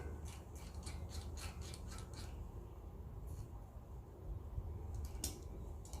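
Metal-to-metal threads of a carburetor adapter on a truck being tightened by hand, a soft repeated rasping and rubbing in short bursts close by, with faint scraping clicks and no talk.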